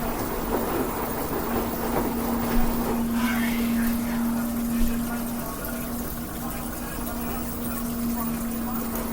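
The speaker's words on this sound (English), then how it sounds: "I can actually hear some of that water draining through there." An LG WM3600HWA front-load washing machine drains water during the final spin of a delicates cycle, giving a steady close pump hum over continuous rushing, gurgling water.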